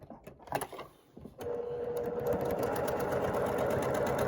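A sewing machine runs a steady continuous stitching burst while a 1/4 inch seam is sewn through the intersection of a baby pinwheel quilt block, starting after a few soft handling clicks and holding an even hum to the end.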